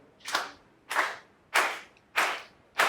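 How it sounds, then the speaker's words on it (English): An audience claps along together in steady rhythm, five loud, sharp unison claps spaced about half a second apart, close and clear with no talking. "Come on, everybody clap."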